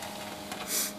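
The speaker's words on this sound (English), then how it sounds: "Listen to that hard drive. Listen to it purt." A Dell Dimension 2350 desktop computer's IDE hard drive purrs in a steady, quiet whir, with a brief brighter swell of hiss near the end and no voices.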